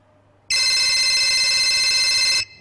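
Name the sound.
telephone ringing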